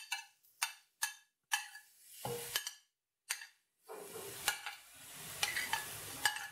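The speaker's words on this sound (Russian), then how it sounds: "Наливаем в сковороду подсолнечное масло, разогреваем и в разогретое масло уже высыпаем наши компоненты." Mushroom stuffing ingredients hit hot sunflower oil in a frying pan, crackling sharply at first and then settling into a steady, close sizzle broken by bright spits and pops, with no talking.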